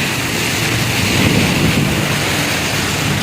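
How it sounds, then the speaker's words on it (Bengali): Heavy rain pours onto empty Kolkata streets as a dense, steady, loud wash of noise with no breaks. "খুব জোর বৃষ্টি হচ্ছে দেখো বন্ধুরা রাস্তাঘাট পুরো একবারে ফাঁকা"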